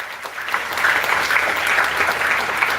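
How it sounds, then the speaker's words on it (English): Audience at an inter-school declamation contest in Jharkhand applauding the contestants, a dense steady wash of many hands clapping that swells slightly after the first half second and holds loud. "So can we have huge round of applause for all of us?"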